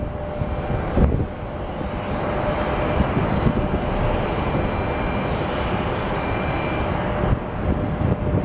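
American Airlines flight 1487, a jet departing for DFW, gives a steady, moderately loud broadband engine roar that holds throughout, with a faint voice briefly audible.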